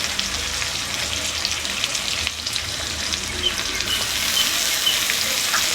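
Potato and pointed gourd pieces cooking with cumin, coriander, turmeric and salt, a steady sizzling fry in a pan, continuous and fairly loud with a watery hiss throughout.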